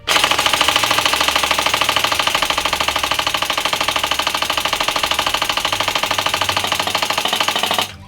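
An S&T PPSh-41 airsoft submachine gun with a stick magazine fires one long full-auto burst at a target, a loud, rapid, even mechanical rattle of blowback cycling that lasts about eight seconds and then stops abruptly.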